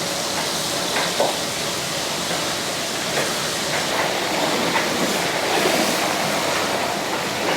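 Chicken frying in hot oil for a wedding-style chicken curry gives a loud, dense, continuous sizzle with no pauses, heard up close and alone.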